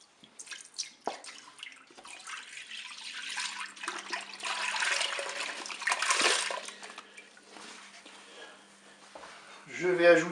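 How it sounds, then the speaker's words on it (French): Milk pours into the inner pot of a Cookeo multicooker for a cookie dessert cream, giving a running liquid splash that builds and fades over several seconds, close and moderately loud with brief handling noises. "Je vais verser le lait dans la cuve."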